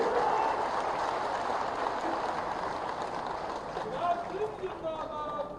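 Crowd applause at a political rally addressed by a politician: a broad, steady wash of clapping from a large audience, moderately loud, with a voice or two sounding faintly through it toward the end.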